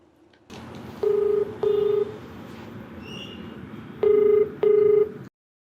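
Telephone keypad dialing for a call to a TV advice programme caller: four distinct DTMF tone beeps in two pairs, each roughly half a second, over a low steady line hum, with no talking.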